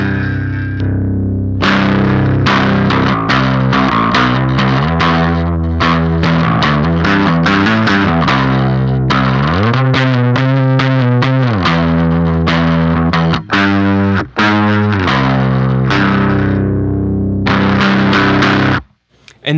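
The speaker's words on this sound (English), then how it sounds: "Let's go ahead and hear how the mid voice sounds" Guitar runs through the Electrojunk BOOst treble boost pedal on its mid voice, a loud, distorted stream of picked notes and chords with brief gaps, playing alone for almost twenty seconds before cutting off.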